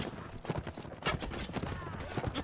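Horses in the video game Mount & Blade Warband gallop past with quick, irregular hoof clip-clops, and a brief whinny cuts through amid battle noise and someone talking.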